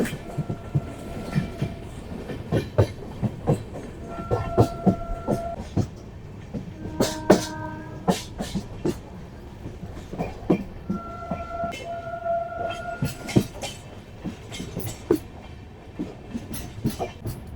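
Moving passenger train nearing Jaipur Junction, a steady rolling rumble with clickety-clack wheel beats and repeated tonal squeals or horn-like notes rising over the din, heard close from onboard.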